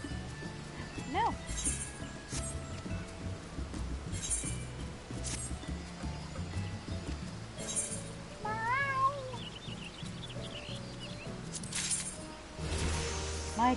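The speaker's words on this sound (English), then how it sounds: "My cat is such a persistent little" A pet cat meows several times, with a drawn-out wavering cry near the start and another insistent run of meows later. The meows mix with a busy bed of game sound and music while a person talks.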